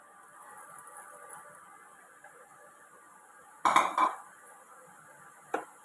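Chopped pumpkin goes into a pan of sautéed masala, with a loud metallic clank and clatter of utensils, then a short quiet stretch and a final sharp scrape against the pan.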